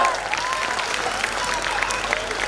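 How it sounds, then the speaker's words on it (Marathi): Loud, dense applause from a crowd at an abacus academy's national-level competition award function, continuous throughout, with faint voices mixed in beneath the clapping. "जोरदार टाळ्या."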